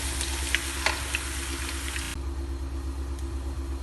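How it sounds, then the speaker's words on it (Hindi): A low, steady sizzle of something frying in a pan, with a few soft stirring clicks early on and a constant background hum. "ये 1 टेबल स्पून अदरक लहसुन का पेस्ट डाल के इसको 1 से 2 मिनट सौते करेंगे"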